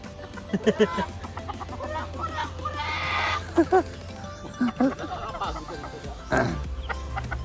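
Native chickens cluck in short bursts close by, several birds calling over a low outdoor background with faint voices.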